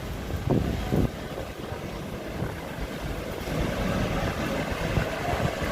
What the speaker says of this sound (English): Sorry for all the traffic and the noise, but it's, you know, it's a town.